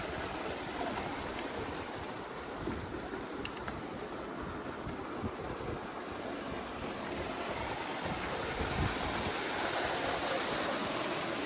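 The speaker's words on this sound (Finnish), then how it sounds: "kun tulee kylmä puro tuolta ja se on todella kylmä se vesi" Cold mountain stream on an alpine trail between Chamonix and Zermatt, rushing steadily and loudly close by as a continuous broadband wash of water with no talk.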